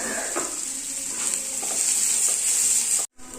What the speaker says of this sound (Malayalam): ഒരു മീഡിയം സൈസ് സവാള ഞാനിവിടെ ചെറുതായിട്ട് കട്ട് ചെയ്തുകൊണ്ട് അത് നമുക്ക് ഇതിലേക്കൊന്ന് ഇട്ട് കൊടുത്തൊന്ന് വഴറ്റിയെടുക്കാം